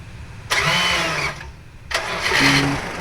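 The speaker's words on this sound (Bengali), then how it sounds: "তো ইঞ্জিনটা স্টার্ট করে দেখিয়ে দিই" A newly built small delivery van's engine is cranked twice, close by, each attempt a loud whirring start burst, the second catching into a low idle.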